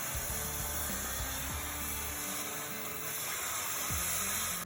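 Power tool cutting through an exhaust clamp bolt on a Ford F150 during a downpipe install, a steady harsh grinding whine with rough scraping texture, loud and continuous for several seconds with no talking.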